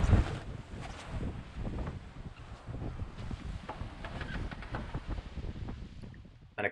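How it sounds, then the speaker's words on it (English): A ClubSwan 36 sailing yacht beats upwind with its foil out, giving steady wind buffeting and rushing water and spray, with faint creaks and slaps along the hull. "Sailing upwind on the ClubSwan 36."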